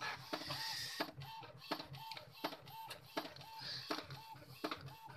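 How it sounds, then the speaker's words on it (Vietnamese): Wedding-card printing machine in a print shop running in a steady repeating cycle, each stroke a clattering mechanical thump with a brief whir, about six cycles, loud and close with no talk. "đây là máy in"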